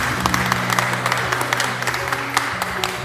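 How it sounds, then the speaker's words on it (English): An audience at the South Petherton Folk Festival claps steadily throughout, a dense, close wash of applause from a crowd with faint voices underneath. "Let's give Sam a big round of applause."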